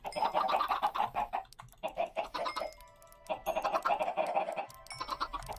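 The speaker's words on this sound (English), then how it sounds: "Yes, more chickens." Chickens in the Minecraft video game clucking in quick repeated bursts, fairly faint, with short pauses between runs of clucks and no talking over them.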